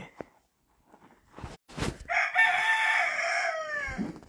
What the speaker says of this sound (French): Bonjour, monsieur le coq.